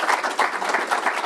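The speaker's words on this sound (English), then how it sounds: "So could we just give our panel a big warm round of applause." Audience applause for a panel at a workplace wellbeing panel discussion, a short burst of dense clapping at steady loudness throughout.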